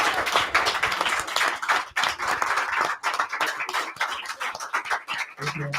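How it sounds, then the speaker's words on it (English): An audience of scholars claps for Attorney Bobby Forrest at a talk series, a brisk, close clatter of individual hand claps with small dips in intensity, fading out near the end as a low hum emerges. "let's give a huge round of applause to Attorney Bobby Forrest"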